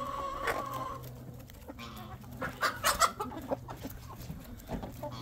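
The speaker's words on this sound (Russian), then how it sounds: "два петуха уже я вижу здесь." Two roosters in a village yard cluck and call, with a burst of close, loud clucking in the middle, over faint background noise and no talking.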